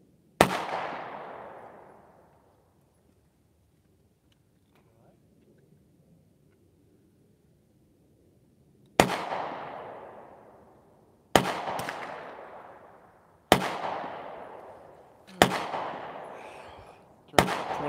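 Rifle shots ring out at an outdoor home shooting range: one sharp crack with a long echoing decay, a quiet pause, then five more loud shots about two seconds apart.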